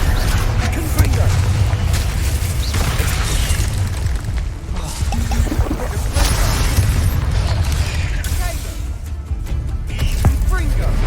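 Repeated spell blasts from the Confringo fire curse in the video game Hogwarts Legacy, loud booming bursts layered under constant combat noise and shouted incantations.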